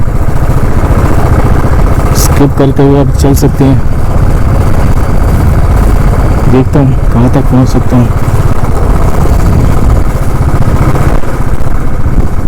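A motorcycle engine hums steadily beneath continuous talking during a solo ride from Katra to Patnitop, on a mountain road closed by a landslide after heavy rain.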